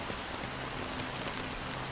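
Steady rain falls in a scene from the video game Honkai Star Rail, a dense continuous patter of drops with no talking over it.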